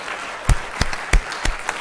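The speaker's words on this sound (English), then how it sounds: "everybody deserves a round of applause now" Sparse applause at an Escondido city council meeting: a handful of distinct, fairly close hand claps spaced unevenly over a quiet room background, with no talking.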